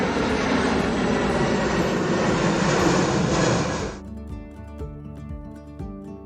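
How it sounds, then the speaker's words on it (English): An airplane roars past loudly as a steady broadband engine rush for about four seconds, then cuts off abruptly as light background music carries on. "Here comes an airplane."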